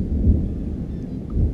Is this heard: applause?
no